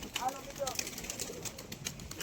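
Pigeons in a keeper's flock coo softly in the background, brief low calls mixed with a little wing movement, while people talk nearby.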